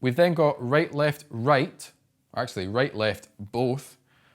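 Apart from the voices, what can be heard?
No distinct noise like a dog, phone or traffic.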